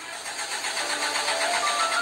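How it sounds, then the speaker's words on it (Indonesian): An unattended Pamong Praja police service truck's engine cranking over on its own, a steady, loud rumbling mechanical drone with no voices over it. "seorang pria yang tidak diketahui namanya ini terlihat sebuah truk dinas polisi Pamong Praja menstarter mesinnya sendiri"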